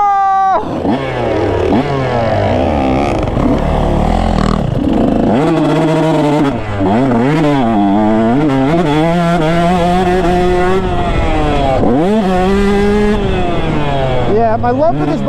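A two-stroke motorcycle engine revs hard while being ridden, its rising and falling pitch sweeping up and down through repeated throttle blips, loud and close, with a voice briefly speaking over it.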